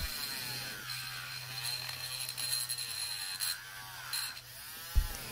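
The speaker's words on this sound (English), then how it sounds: "I'm just using the grinding tool to smooth it all out and make the nails less jagged" A rotary grinding tool smooths a dog's jagged nails, a close, steady high-pitched buzz that runs for several seconds with slight changes in pitch and ends in a brief knock.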